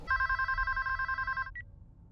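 A telephone rings from a Scream 6 trailer, one loud sustained electronic trill with a short faint chirp after it, then quiet.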